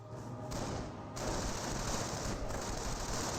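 Rifle fire from Riflemen striking the rear armor of a tank in a Company of Heroes match: a dense, steady crackle of distant small-arms volleys with bursts swelling louder, no voices.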